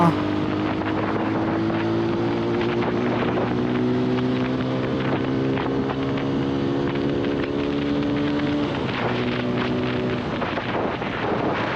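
A TVS Apache RTR 160 4V motorcycle's steady engine drone holds throughout with a low rumbling hum and rising harmonic tones while cruising, with wind noise over it.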